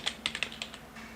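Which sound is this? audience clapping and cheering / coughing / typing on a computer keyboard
typing on a computer keyboard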